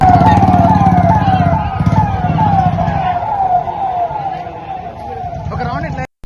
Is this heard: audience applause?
no